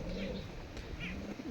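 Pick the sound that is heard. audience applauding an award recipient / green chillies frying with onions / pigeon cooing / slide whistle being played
pigeon cooing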